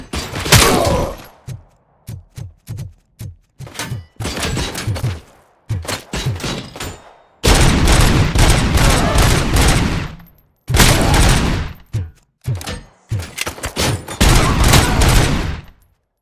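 Gunfire in the video game RoboCop Rogue City, loud bursts of rapid shots and sustained automatic fusillades separated by short gaps, close and dominant.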